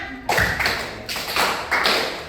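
Hand claps from a classroom group: three separate loud slaps spaced roughly evenly apart, each one sharp and close, then quickly decaying, with quiet between them and no talking.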